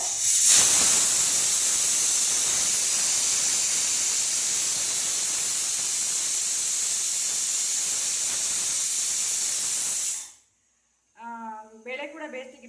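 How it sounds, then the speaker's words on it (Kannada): A home pressure cooker cooking lentils lets off a loud, continuous high steam hiss for about ten seconds, then cuts off abruptly, followed by a brief silence and a person talking. "ಬೇಳೆ ಕೂಡ ಬೇಯಿಸ್ತಿದ್ದೀನಿ ಕುಕ್ಕರಲ್ಲಿ."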